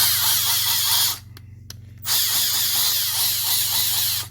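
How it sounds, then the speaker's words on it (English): An old cordless drill driver whirs loudly up close, stops for about a second, then spins up again and keeps running with a steady, slightly rough, scratchy buzz. "So it's got a little bit of a scratchy throat, but it's just a drill driver."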